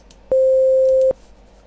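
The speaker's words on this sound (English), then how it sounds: "So if we play the sine wave" A single steady pure sine wave tone from chiptune tracker software switches on abruptly, holds for under a second at constant loudness, then cuts off cleanly against quiet background.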